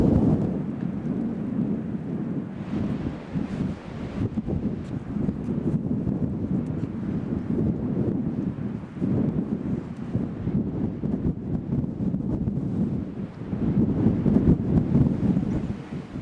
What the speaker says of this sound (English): today it must be one of the windiest points